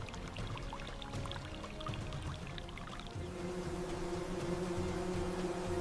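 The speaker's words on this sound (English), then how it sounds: "millions of tundra mosquitoes rise. This is the interruption, the swarm that stops the giants." A swarm of tundra mosquitoes rises over stagnant Arctic pond water, a dense, steady whining buzz that swells slightly, heard alone under soft ambient noise.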